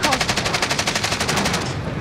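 Automatic weapon fire in Call of Duty: Modern Warfare rattles in a rapid, even burst of about twenty rounds, loud and sustained, cutting off just before the end.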